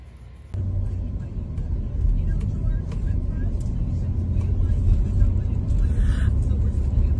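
A car is driven along the road, heard from inside the cabin as a steady, low engine and road rumble that stays even throughout, with faint higher rattles above it.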